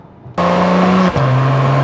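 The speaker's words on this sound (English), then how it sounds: "I like the little pops and shift noises that this car gives." An Acura TLX Type S sedan with a 10-speed automatic accelerates with a loud, close engine drone, then a sharp break and brief pop at a gear change before the steady tone resumes at a lower pitch.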